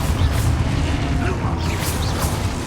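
Confringo blasting spell going off in the Hogwarts Legacy video game, a dense rumbling blast with crackling bursts that holds loud and steady across the whole stretch, with voices mixed in.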